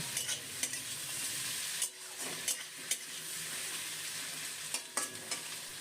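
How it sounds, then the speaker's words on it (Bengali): Chopped tomato stir-fries with well-browned onions for a duck egg and potato curry. A continuous close sizzle carries through, broken by repeated scraping stirs of a spoon against the pan. "এর মধ্যে দিয়ে দিলাম টমেটো কুচি টমেটো কুচিটাও পেঁয়াজের সাথে একটুখানি নাড়াচাড়া করে ভেজে নেব"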